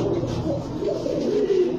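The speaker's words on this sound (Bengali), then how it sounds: "তো লাল গিয়ারের গলা খাকি কবুতর।" Gola khaki pigeons with red eyes cooing steadily in a low, throaty murmur, close by, with no talk over them.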